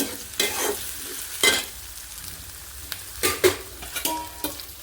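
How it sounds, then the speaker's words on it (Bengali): Onion frying in hot oil, a soft steady sizzle broken by several sharp scraping stirs, close by with no talk. "আমি পেঁয়াজটা তেলের ভিতরে ছেড়ে দিলাম এটা হালকা একটু বাদামি করব"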